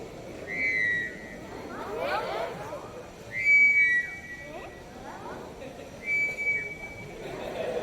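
Several thin, breathy whistling tones come and go in short bursts as air is blown through folded paper, with a clear pause between each, heard up close.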